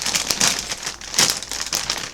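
A Diamond Multimedia R9 380 graphics card is slid out of its anti-static packaging bag, giving loud, close crinkling and crumpling plastic rustles in irregular bursts for about two seconds, with no talking.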